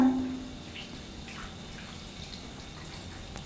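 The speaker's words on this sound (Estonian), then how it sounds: "Siis loputame rohke veega üle." Tap water running steadily while hands are rinsed at a sink, a close, even hiss of flowing water with faint splashes, following a brief thud at the start.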